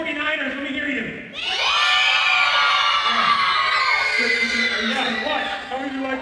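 A crowd of children cheers for the 49ers in a loud, sustained burst of shouting and high-pitched screaming, with an adult voice heard before and after.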